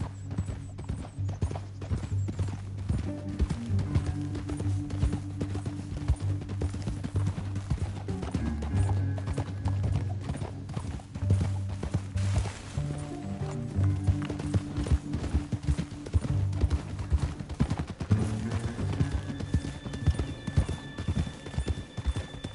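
Horse hooves clip-clop in a steady, rapid rhythm over a low musical drone in Red Dead Redemption 2, continuing throughout at moderate loudness with no voices.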